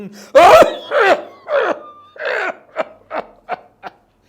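A male singer in a Tamil film song coughs repeatedly, starting with a few loud, harsh bursts and then trailing into a series of shorter, fainter coughs in an uneven rhythm, with no talk over them.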